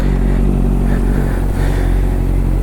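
Honda CBR650 superbike idling close by, a loud, steady, deep exhaust burble with no change in pitch and nothing else heard.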